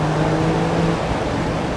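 A 2022 Porsche 911 Targa 4 GTS engine pulls hard under acceleration, a loud, dense rising roar heard from inside the open-top car, with no speech over it.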